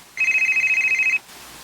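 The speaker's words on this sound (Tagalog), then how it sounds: "Nanawag ba nagbalik si Manoy Jose?" A mobile phone rings with a bright, rapidly pulsing electronic tone, close and clear, in a single burst of about one second before stopping.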